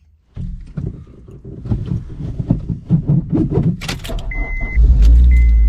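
A K20-swapped Honda Jazz is heard through a run of mechanical clicks and clunks, then the engine catches and settles into a loud, steady idle near the end, with a chime sounding over it.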